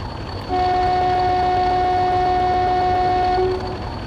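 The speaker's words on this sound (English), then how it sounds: "it is a really low quality, poorly looped Class 40 horn" A low-quality, poorly looped Class 40 diesel locomotive horn in Train Simulator Classic sounds one sustained two-tone blast for about three seconds, loud and steady, then cuts off abruptly over faint engine rumble.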